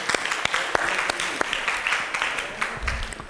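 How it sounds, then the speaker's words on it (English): Audience applauding at the SATAC 2024 District 104 impromptu debate contest, scattered sharp claps ringing out in an irregular, moderately loud patter, with faint talk and a low thump near the end. "Clap for the people who is going to show us the greatness now."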